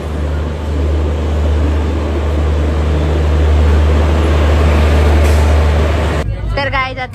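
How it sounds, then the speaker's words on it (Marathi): A train pulls into a station with a loud, steady, low mechanical rumble and droning hum that fills the scene, then cuts away near the end as a voice briefly comes in. "तर आमची ट्रेन आलेली आहे,"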